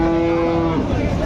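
A Friesian cow gives a single short, loud moo close by at a cattle market, with faint crowd murmur underneath.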